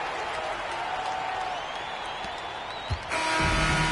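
Arena crowd in NBA 2K25 basketball game, Lakers versus Celtics, a steady broad cheering roar throughout that swells louder near the end, with no talk over it.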